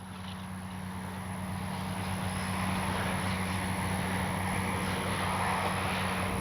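An RC Swift model airplane making its maiden flight overhead, a steady droning engine whine that swells slightly and holds level amid outdoor background noise.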